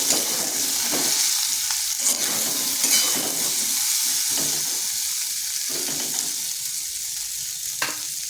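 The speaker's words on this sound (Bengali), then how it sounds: "ভেন্ডিগুলো হালকা একটু ভেজে নেব।" Okra (bhindi) lightly frying in oil in a pan, giving a continuous, even sizzle that stays fairly loud throughout, with a few soft clinks of stirring and no talking.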